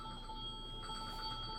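A mobile phone rings with a repeating electronic tone that pulses steadily over a constant background hum, with no voices.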